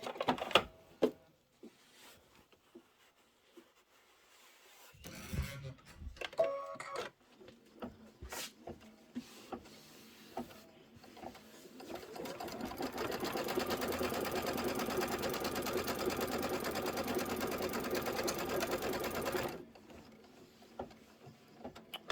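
An embroidery machine stitches quilting on border strips in the hoop: scattered clicks and short mechanical bursts, then a sustained whirring, rattling run of rapid stitching for several seconds before stopping, with no voices.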